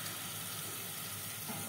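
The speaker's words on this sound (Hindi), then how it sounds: "इसके अंदर हमने थोड़ा सा पहले पानी डालूंगी" Water is poured into a cooking pan while Bombay chicken masala is made, giving a broad, steady hiss and sizzle that lasts the whole short moment without any talk.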